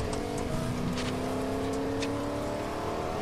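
A small car drives in Fortnite with a steady engine hum and a whirring drone, close and constant, with no talk over it.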